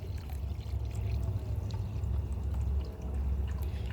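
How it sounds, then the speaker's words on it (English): Water pours steadily into a container for making compost tea, a continuous low gushing with no voices. "So we're just gonna basically fill this one out with water."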